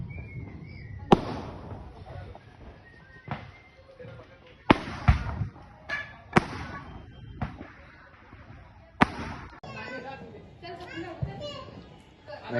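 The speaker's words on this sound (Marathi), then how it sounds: "आता याने इथं बॉम्ब वाजवत लावले." Diwali firecrackers go off as a handful of sharp, loud bangs spaced a second or two apart, with children chattering and calling out between the blasts.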